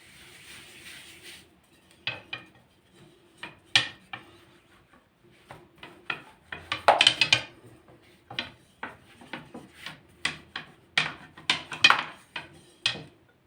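Dough for layered katmer being rolled out with a wooden rolling pin in a kitchen, heard as scattered soft knocks, taps and rolling clatters against a board, irregular and close, with no talking.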